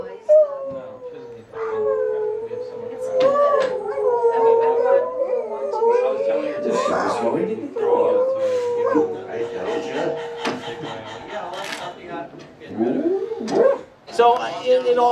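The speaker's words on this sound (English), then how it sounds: "The noble dog." Several dogs howl in long wavering overlapping tones, loud and close, with occasional yips and barks breaking in, while a person talks intermittently over them.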